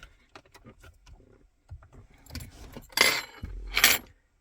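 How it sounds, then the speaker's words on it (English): Metal radio release keys pulled from a Peugeot 308CC head unit in a car interior: light clicks and rattles build to two louder scraping, jangling pulls near the end, close up with no talking. "Once it's clipped in, remove your radio keys."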